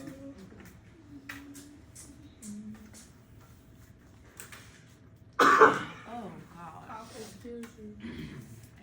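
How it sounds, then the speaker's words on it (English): One sharp, loud cough bursts out midway through steady background chatter and movement in a geometry classroom. "Bless you. Cough."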